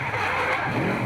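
Drift car skidding around Wellington Speedway during D1NZ Pro-Championship drift qualifying, a sustained loud roar of engine and tyre squeal holding steady for about a second.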